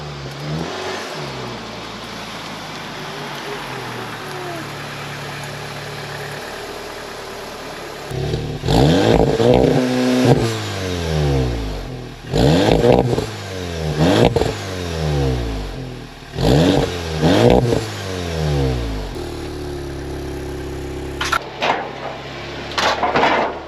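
A car engine idles, then revs sharply several times in bursts, each rising and falling loudly, close by.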